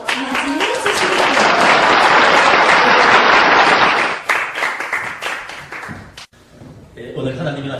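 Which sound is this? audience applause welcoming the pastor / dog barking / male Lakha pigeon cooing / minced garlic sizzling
audience applause welcoming the pastor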